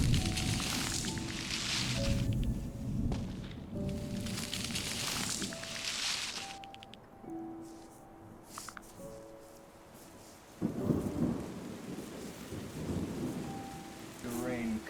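Rain and rolling thunder from the video game Terra Nil: a dense, continuous downpour with several heavy thunder rumbles swelling and fading across the stretch.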